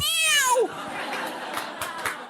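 A human voice imitates a cat yowling on stage at a standup comedy show, a loud drawn-out falling wail followed by scattered audience reaction.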